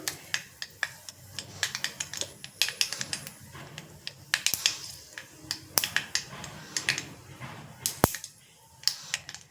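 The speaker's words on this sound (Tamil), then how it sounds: "கடுகு பொரியுது." Mustard seeds crackle and spit in hot oil, tempering for a puli sadham podi: dense, irregular sharp pops and snaps close by, steady through the stretch with no voice.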